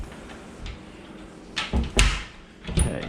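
An old, slightly warped, highly glazed wooden door in a house is worked and shut, giving a few knocks and a louder thud over room noise.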